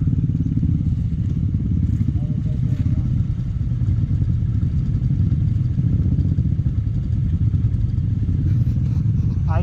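A motorcycle rides off-road, its engine droning steadily and loudly close by, with rattling and clatter over the rough ground and brief voices under the noise.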